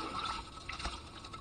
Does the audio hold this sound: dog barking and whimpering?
no